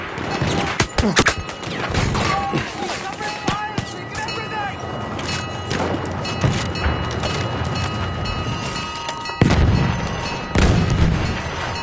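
An enemy artillery barrage in Battlefield 1 rumbles with repeated booms and crashing impacts, mixed with scattered gunfire and battlefield noise, and voices speak over the chaos.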